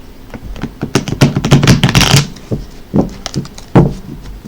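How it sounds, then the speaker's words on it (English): Tarot cards being shuffled by hand, close and loud, with a dense run of riffling clatter in the first half followed by a few separate slaps and taps, no talk. "These cards are a little awkward to shuffle."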